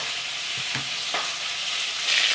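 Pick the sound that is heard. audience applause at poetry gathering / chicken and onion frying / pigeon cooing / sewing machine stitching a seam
chicken and onion frying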